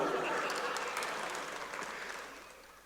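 An audience at a launch event for the Chhattisgarhi film Mor Mati claps at length, a dense and fairly loud wash of applause that slowly fades toward the end.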